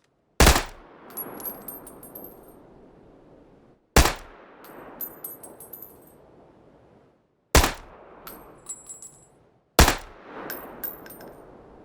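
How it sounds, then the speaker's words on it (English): Four single unsuppressed Tommy gun shots in PUBG, each a sharp loud supersonic crack with a metallic ring and a rolling echo tail, spaced a few seconds apart. "But even here, you can hear a supersonic crack when not using a suppressor."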